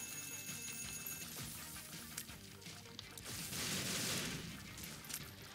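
Dense rumbling blasts and crackling bursts from The Binding of Isaac: Afterbirth in Greed Mode, several explosions rolling together with a louder swell toward the end.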